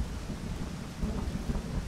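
Steady rain with a low thunder rumble in the game Zero Sievert, a dense continuous hiss over deep rolling noise that swells slightly midway, with no voices.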